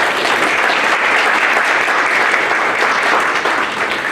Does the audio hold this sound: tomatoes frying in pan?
no